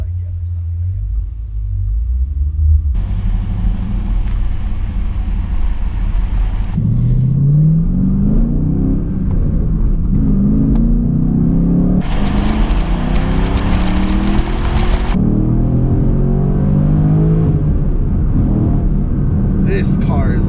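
A 2015 Camaro Z/28 cruising the Las Vegas Strip, its V8 rumbling loud and close inside the cabin, rising in pitch through repeated accelerating pulls between shifts, with faint talk over the engine.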